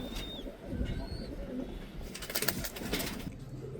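UK Brand second-generation pigeons coo repeatedly in low, throaty rolls, with a few brief bird chirps and a flurry of rustling or wing noise partway through, all fairly close.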